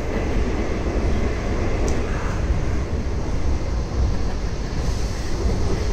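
A steady, loud rumble of a moving train fills the whole stretch, with constant low roar and faint hiss, no voices.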